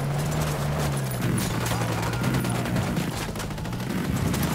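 Rapid bursts of automatic gunfire from a firefight in Ghost Recon Wildlands, loud and continuous over a droning engine hum, with a brief voice heard.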